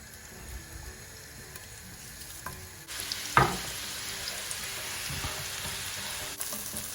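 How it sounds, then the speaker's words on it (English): Chopped onions fry in 2-3 tablespoons of sunflower oil in a pan over high to medium heat, with a quiet hiss that swells into a louder, steady sizzle partway through, plus an occasional clink, and no talking. "I have got here 2-3 tablespoons of sunflower oil, and I'm just going to cook these onions for 10 minutes until they're golden"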